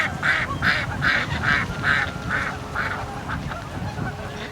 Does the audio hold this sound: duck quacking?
yes